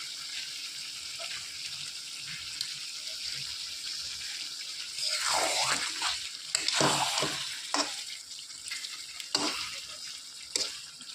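Boal fish pieces being added one by one to hot oil in a pan for a spicy curry, giving a steady sizzle with louder crackling bursts as each piece goes in, with no talking.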